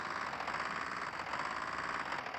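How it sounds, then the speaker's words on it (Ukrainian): A steady, droning tractor engine hum in the video game Chicken Gun, with a buzzy mechanical texture, running continuously at an even level with no voices present. "Трактор тут звук є даже."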